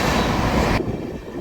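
The Simhapuri Express from Secunderabad to Gudur rushes past, a loud broadband roar that cuts off abruptly and leaves a softer rumble.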